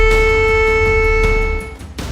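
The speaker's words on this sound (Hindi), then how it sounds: "सायरन की आवाज" A siren sounds in war-torn Ukraine, a loud, sustained, steady droning tone that holds for nearly two seconds before cutting off abruptly.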